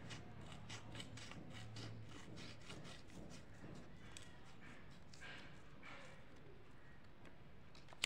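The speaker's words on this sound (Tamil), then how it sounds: "இந்த அளவுக்கு இதே ஷேப்பில் நம்ம வந்து சிசர் வச்சு கட் பண்ணி எடுத்துக்கலாம்" Scissors cut through an A4 paper sheet, a close, steady run of crisp snips and rubbing paper rustle repeating in quick rhythm throughout.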